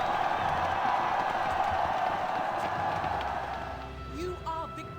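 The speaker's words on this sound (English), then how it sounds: "let's wait for our applause to build up" Game applause in WBC III, a steady wash of crowd clapping and cheering that swells and then fades, with talk over it and short electronic tones near the end.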